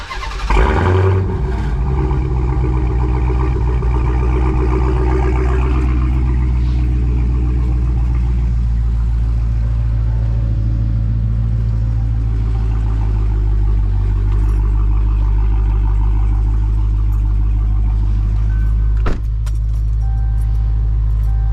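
A Dodge Hellcat V8 cold-starts with a loud bark that settles into a deep, steady rumbling idle held close by for about twenty seconds, with a faint key jingle and no talking.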